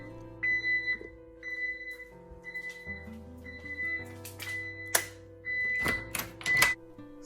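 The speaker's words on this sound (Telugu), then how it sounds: "మనం ఆ పిన్ ఎంటర్ చేస్తే డోర్స్ లాక్ అయిపోతాయి అండ్ బీప్ సౌండ్ వస్తుంది." A home security system keypad gives a series of short electronic beeps as a PIN is entered to arm it, accompanied by soft button presses and clicks at close range.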